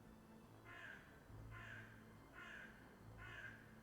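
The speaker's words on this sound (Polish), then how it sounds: "tam jakaś wrona kracza za oknem" A crow cawing outside a window, four evenly spaced harsh caws at moderate distance over a steady low indoor hum, with no talking.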